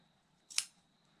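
Scissors make a single quick snip through fabric while cutting a file folder journal cover, one short crisp cut in an otherwise quiet room.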